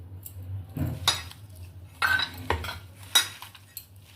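Spiced soybean puffed rice snack mixed by hand in a bowl, with a few separate bursts of rustling and clinking utensil knocks against the dish, set apart by quiet gaps.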